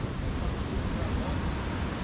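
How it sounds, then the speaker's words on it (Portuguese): Broadband surf from ocean waves at a large beach campsite, a continuous steady rush with wind-like noise close to the microphone, no distinct individual breakers. "Aqui tu dorme com o barulhinho das ondas."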